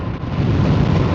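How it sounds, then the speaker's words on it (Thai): Strong storm wind from a tropical storm buffets the microphone in a loud, continuous low rumbling gust, with no talk over it. "ดูพายุเข้าตอนนี้ครับ"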